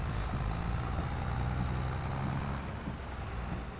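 An old farm tractor engine runs with a steady, low, rumbling drone, fairly close and continuous, with no talk over it.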